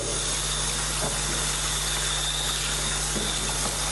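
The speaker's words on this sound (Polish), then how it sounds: "Puszczam wodę i jedziemy." Tap water runs steadily into a tray to rinse fixer from a black-and-white photo print in a home darkroom, a constant close hiss and rush with a faint hum, no voices.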